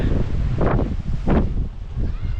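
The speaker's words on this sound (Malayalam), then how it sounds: "നല്ല കാറ്റടിക്കുന്നുണ്ട്" Wind gusts sweep across a hillside tea estate at Hungerford Estate in Ooty. Loud, close buffeting roars against the microphone in several surges, with no talking.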